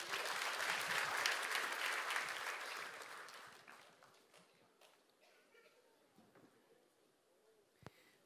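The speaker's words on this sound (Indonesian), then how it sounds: "Mari kita beri tepuk tangan Tuhan Yesus" Church congregation applauding at a Christmas celebration service, a loud burst of clapping that fades over several seconds into quieter room sounds, with a few scattered claps and a sharp knock near the end.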